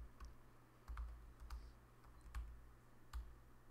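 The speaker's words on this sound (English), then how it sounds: "So what I do is I type the list name," Quiet keystrokes on a computer keyboard while coding in Python, a handful of soft, irregular taps spread across a few seconds, close and faint with no talking.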